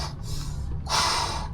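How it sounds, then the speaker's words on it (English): Firefighter breathing through a breathing apparatus mask, two harsh hissing breaths, an inhale then a louder exhale, close up. "what you're gonna hear is this breathing"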